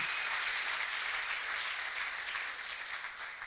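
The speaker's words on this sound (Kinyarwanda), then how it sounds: "Let's applaud to him." Church congregation applauding steadily at a worship service, a dense, loud wash of clapping that holds throughout and eases slightly toward the end.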